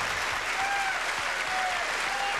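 An appreciative crowd claps steadily through a pool tournament final, dense applause filling the hall without a break.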